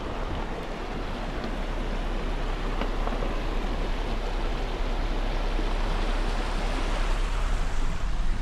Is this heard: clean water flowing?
yes